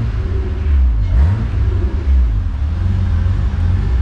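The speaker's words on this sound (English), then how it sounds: "can rev it and it'll come back down" A naturally aspirated Holden V6 in a VX-VY Commodore is revved once, swelling to a throaty rumble and then settling back to a steady idle, close and loud, with no talking.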